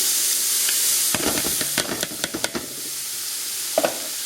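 Chopped vegetables hit a hot gumbo roux with a sudden loud sizzle and hiss of steam, followed by a run of sharp stirring clicks against the pot.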